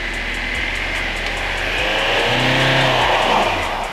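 Off-road 4x4 in snow, a Nissan Patrol or Toyota Land Cruiser LJ70 with rear locker engaged, its engine droning loud and steady with revs rising and falling several times.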